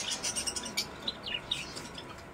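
Cockatiels and lovebirds in a pet shop give off a busy stream of high, overlapping chirps and tweets, several birds calling at once at close range with no talk.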